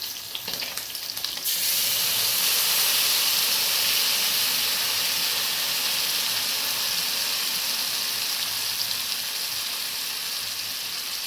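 Spice paste for a Bengali fish curry hisses hard in a pan as water is added, a loud, steady, close sizzle with a steamy hiss that holds for many seconds.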